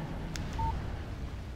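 A phone text message alert in the Alan Wake video game sounds as a single brief electronic beep over a low, quiet background hum, with nothing else happening.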